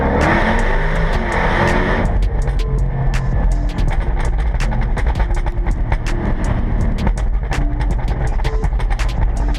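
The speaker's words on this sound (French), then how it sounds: "au moment de accélérer parce que c'est une propulsion, donc ça peut vite déraper." A rear-wheel-drive car accelerates hard out of tight hairpin bends on Monaco streets, its engine revving loudly and steadily, with sharp clicks and bursts punctuating the drone.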